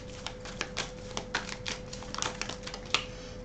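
Tarot cards laid out and handled on a table, a run of light, quick taps and flicks close by, irregular in rhythm, under a steady faint hum with no voices.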